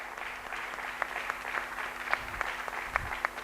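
An audience breaks into a round of applause at a mineral block auction launch event, a soft, distant wash of clapping with a few sharper claps standing out over a quiet room hum.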